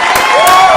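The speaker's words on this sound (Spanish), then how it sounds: "quiero que hoy recibamos con un fuerte aplauso a Joaquín Salas" A podcast studio audience welcomes a guest with loud, dense cheering and applause, a short, continuous burst of crowd noise with no talking over it.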